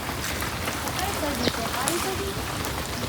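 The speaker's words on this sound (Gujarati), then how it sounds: "તો અત્યારે તો જો વરસાદ ફૂલ ધોમ વરે છે" Heavy monsoon rain pours down in a village, a dense continuous hiss of drops on surfaces with faint voices and a brief bird-like chirp partly masked underneath.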